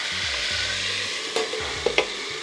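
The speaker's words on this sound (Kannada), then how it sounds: "ಸೊ ದಟ್ ಈರುಳ್ಳಿನೂ ಬೇಗ ಫ್ರೈ ಆಗುತ್ತೆ" Onions frying in tempering oil on a low flame with salt added give a soft, steady sizzle, joined by a few brief clinks and scrapes near the end; close by, with no talking.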